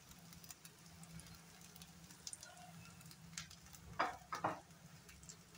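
Spring onion pakoda frying in a little oil in a pan, a faint steady sizzle and crackle with a couple of brief louder scrapes near the end, no talk.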